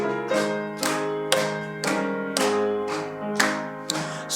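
A church congregation claps in a steady beat while singing hymn number 91 together, with regular sharp claps about every half second over full sustained singing.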